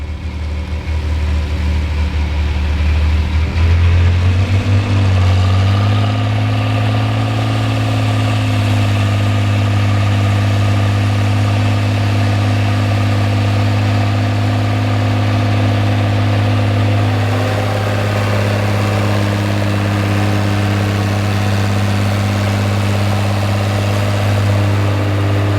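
A Case IH 1594 Hydra-Shift tractor, a roughly 100-horsepower six-cylinder, runs loud and close, its engine rising from idle within the first few seconds and then holding a steady, heavy drone.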